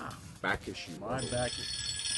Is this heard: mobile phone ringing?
yes